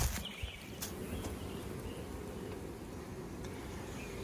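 Honey bees swarm around an apiary hive, giving a continuous low, close buzzing hum with a few louder individual passes near the start, steady throughout and free of talk.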